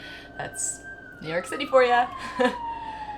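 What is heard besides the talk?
emergency vehicle sirens outside in New York City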